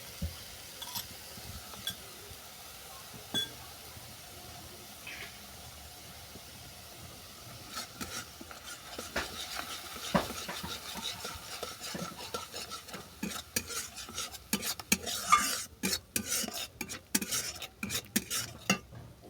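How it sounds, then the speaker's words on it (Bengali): Mustard paste being stirred into cooked spices in a pan for a fish curry, with a soft scraping and clinking of a spoon that grows busier and louder in the second half, alone without talk. "সর্ষে বাটাটা মশলার সঙ্গে মিশিয়ে নিলাম।"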